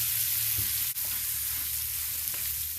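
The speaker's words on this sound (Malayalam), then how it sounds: "ഇനി നമ്മൾ ആ ഒരു സവാള ചെറുതായിട്ട് അരിഞ്ഞെടുത്തത് ഒരു പത്ത് ചെറിയുള്ളി ചെറുതായിട്ട് അരിഞ്ഞെടുത്തത് ഇത് അതിൽ തന്നെ നമ്മൾ നന്നായിട്ട് വഴറ്റിയെടുക്കുകയാണ്" Chopped onion and small shallots sautéing in a pan, a steady broadband sizzle running throughout with faint stirring scrapes and a brief clink near the start, no voices.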